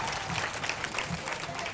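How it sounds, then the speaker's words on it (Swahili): Applause for Douglas at a church gathering with dance practice, a steady wash of clapping from a group that runs the whole moment, fairly close with a light crowd murmur underneath. "Patieni Douglas makofi tafadhali."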